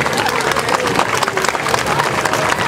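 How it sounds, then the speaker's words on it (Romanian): A crowd claps and cheers at a medieval knights' tournament in Sighișoara, a loud, dense burst of applause with some voices mixed in, sustained throughout. "Haideți să-i aplaudăm!"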